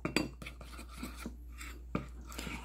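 Flour and water being mixed in a bowl into a lump-free sealer paste, heard as brief close scrapes and light taps of a utensil against the bowl, irregular and quiet.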